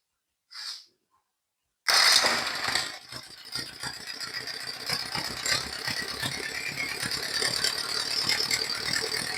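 A John Deere 317 garden tractor engine runs after a fuel mixture adjustment, starting abruptly after a short sniff-like noise and settling into a steady, even rattling idle, loud and close.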